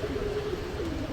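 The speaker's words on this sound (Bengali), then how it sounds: "খুব স্প্রিং একজোড়া মুখী কবুতর আছে" Pakistani mukhi pigeons coo in a shop, a low continuous throaty rumble droning close by against a busy background.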